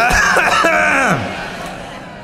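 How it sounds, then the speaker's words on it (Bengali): An audience at an Islamic sermon gathering coughs and clears throats together on request, a short burst of many voices at once, fading quickly into quiet room noise. "একটা কাশি দেন দেখি সবাই।"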